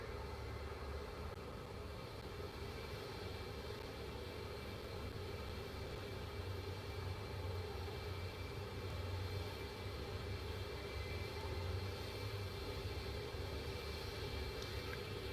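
A steady, low, distant drone of a jet airplane sitting on or near a runway in American Truck Simulator, holding even and faint for the whole stretch with no voices.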